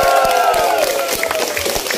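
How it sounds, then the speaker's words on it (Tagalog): An audience at a vlogger gathering breaks into loud applause and cheering, a dense crowd roar with scattered sharp claps throughout, while a held musical tone sounds underneath early on. "Tingin pa ulit na malakas na palakpak."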